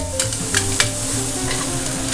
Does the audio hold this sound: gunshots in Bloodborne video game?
no